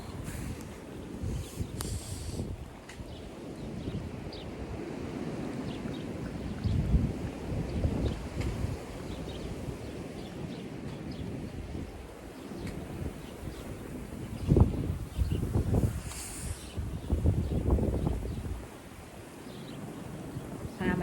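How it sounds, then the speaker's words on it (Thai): Fierce wind in a German snowstorm at minus six degrees roars steadily in a backyard, buffeting the microphone with heavy gusts that surge around the middle and later stretches, with no speech. "วันนี้พายุอยู่ข้างนก ลมแรงมากเลยค่ะ"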